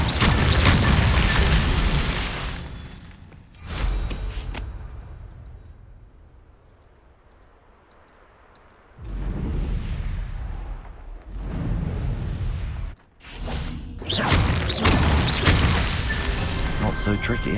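A fire spell cast in the Hogwarts Legacy video game bursts out in loud, booming whooshes, with quieter rumbling gaps between several heavy blasts and brief speech woven among them.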